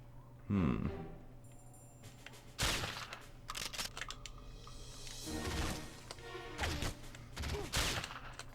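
Suppressed gunfire from a stealthy takedown of two guards in the game 007 Nightfire: several sharp, muffled shots spaced a second or two apart over a steady low background hum, with no talking.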